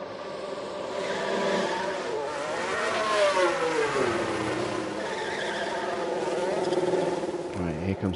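A Formula 1 race car engine in the racing game F1 Manager 23 roars past steadily and loudly, its pitch sweeping downward midway as it passes, with a second engine rising near the end.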